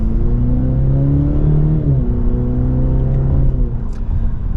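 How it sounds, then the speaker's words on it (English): A 2023 Cadillac CT5 Luxury 350T engine accelerates hard from second gear, a loud steady drone rising in pitch, dipping briefly at a shift, then climbing again from inside the cabin. "And I gotta say, this is a pretty peppy engine."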